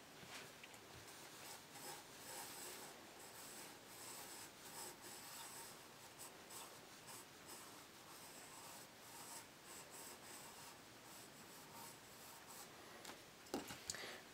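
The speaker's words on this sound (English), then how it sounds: "I'm drawing very lightly" A pencil sketching a Batman drawing with light strokes, a soft continuous scratchy rubbing across paper at close range, steady throughout with faint gaps between strokes.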